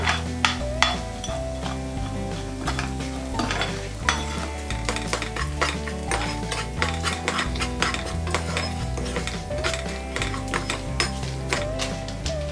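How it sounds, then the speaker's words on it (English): Spoon stirring MTR Puliogare powder into a tempering in a pan, steady scraping and clinking against the metal with a soft sizzle underneath, continuous and close throughout with frequent sharp taps. "add 4 tablespoons of MTR Puliogare powder. Mix it well."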